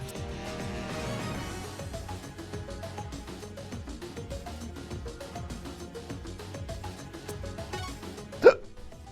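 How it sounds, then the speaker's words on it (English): A single sharp hiccup sounds near the end, close and abrupt, over soft ongoing video-game music. "Oh, I got the hiccups."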